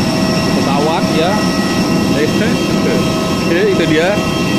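Steady loud roar and whine of an aircraft jet engine on an airport apron, constant throughout, with someone talking over it.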